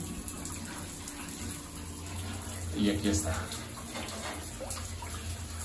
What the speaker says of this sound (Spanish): Yo le cierro, ahí está lo que es el agua caliente.